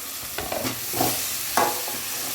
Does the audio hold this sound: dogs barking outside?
no